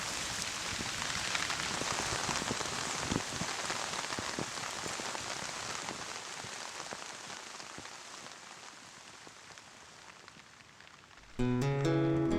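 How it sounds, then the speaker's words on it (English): A heavy rain downpour in the forest, a dense steady hiss of drops pattering on leaves and ground that eases slightly, then gives way to a brief musical tone at the end. "In a downpour, it can be quite chaotic."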